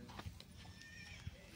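Horses, mostly white mares, at a horse fair in Mahendragarh, with a soft whinny and a couple of faint hoof thuds amid outdoor crowd noise.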